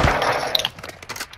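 Gunfire in a Modern Warfare 2 match: a loud burst of close shots opens, followed by several sharper metallic clicks and scattered quieter cracks, with no talk.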